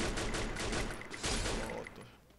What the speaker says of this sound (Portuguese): Tá rolando uns tiros aqui, tropa.